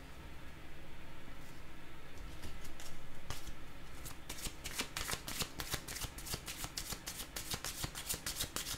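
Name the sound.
cards being shuffled for a card reading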